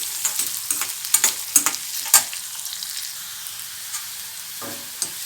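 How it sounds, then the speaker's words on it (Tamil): Onions frying in a pan for a Tamil yam stir-fry, with a soft steady sizzle and a few scraping stirs near the start, close and quiet, with no voices. "வெங்காயம் நல்லா சுருண்டு வதங்கிடுச்சு"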